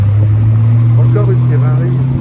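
A line of Porsche cars rolling past in a town square, a loud steady engine drone with low rumbling tones close by while someone speaks French over it.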